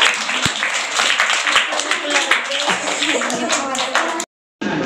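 Applause at a National Science Day school event, a crowd clapping steadily and close for about four seconds with mixed voices under it, then a sudden cut to silence before a brief resumption.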